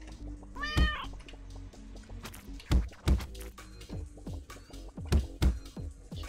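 A cat in the video game Turnip Boy Commits Tax Evasion meows several times in short, sharp bursts. Thumping game effects punctuate the calls, and no one speaks.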